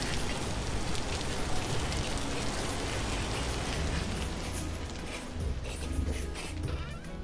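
Steady loud rain pours down in the survival game Vintage Story, a dense continuous hiss of falling drops with no talking over it.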